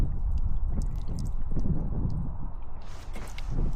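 Water streams from a push-button public drinking fountain in Israel. It makes a steady, close gurgling splash with small drips and squishy bursts that continues throughout.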